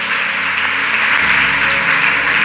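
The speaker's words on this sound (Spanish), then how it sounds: "Dale un aplauso fuerte en esta maravillosa mañana, un aplauso fuerte." A church congregation applauds loudly during a Sunday-morning service, a dense, continuous wash of clapping with a low hum beneath and no distinct individual claps.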